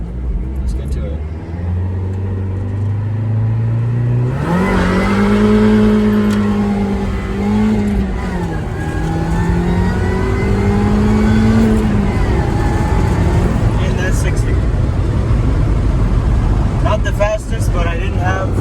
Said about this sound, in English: we're going to do a 0 to 60 run. This is a supercharged Miata